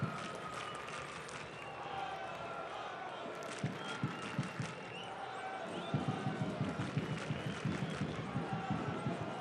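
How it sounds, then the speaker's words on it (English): Soccer fans at an El Paso Locomotive FC home match against Tacoma Defiance raise a distant, steady crowd roar with rhythmic clapping and stomping, while a commentator talks over the noise. "The fans cheering Locomotive FC, and what a response."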